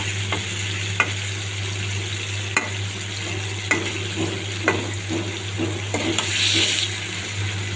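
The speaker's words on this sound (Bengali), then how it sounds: "সুন্দর করে মশলার সাথে নেড়ে চেড়ে দুই তিনবার উল্টিয়ে পাল্টিয়ে ভালো মতো মাছগুলোকে কষিয়ে নেব" Hilsa fish pieces cook in a spice masala in a pan, a steady close sizzle over a low hum, with a spatula scraping and tapping at irregular intervals as the fish is stirred and turned.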